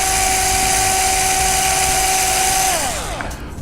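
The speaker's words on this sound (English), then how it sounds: "And then we're going to go ahead and drill that" A drill bores a hole in a quadcopter motor arm lug on a 480mm frame kit, a loud steady high-pitched whine that holds for nearly three seconds, then winds down as the drill stops.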